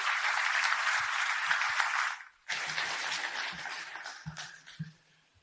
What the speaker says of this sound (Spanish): Un aplauso también para el candidato.